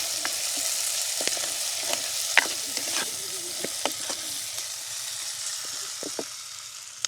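Onions and green chillies fry in a pan with a soft, constant sizzle while a spoon scrapes and turns them in scattered strokes, close and without speech.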